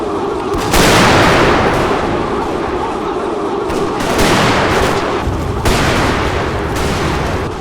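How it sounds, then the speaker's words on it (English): Massed rifle volleys, Gatling gun bursts and artillery firing canister shot at point-blank range in an 1879 Anglo-Zulu War battle in Total War, a loud continuous barrage with heavy booms recurring every couple of seconds. "Zulu regiments had to charge forward directly into massed rifle fire, non-stop fire from the Gatling guns, and the artillery firing canister shot at point-blank range."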